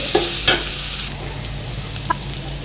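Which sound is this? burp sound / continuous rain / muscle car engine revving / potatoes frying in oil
potatoes frying in oil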